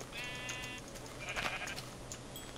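Sheep in a video game bleat in a short harmonic burst near the start, then a brief noisier cry follows mid-clip, both moderately loud over a soft, steady game background with no talk.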